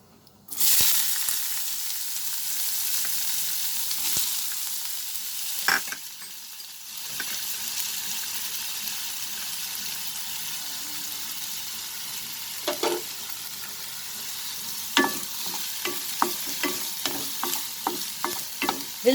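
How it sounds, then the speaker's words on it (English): Chopped onions sautéing in hot oil over a high flame for paneer bhurji, a loud steady sizzle with a spatula stirring and scraping against the pan, sharper clinks and taps toward the end. "We'll saute this over high flame for about 30 seconds."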